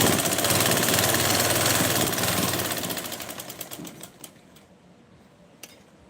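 A sewing machine stitches a patiala salwar seam with a dense rapid rattle that slows and fades after a few seconds, leaving scattered clicks as it stops.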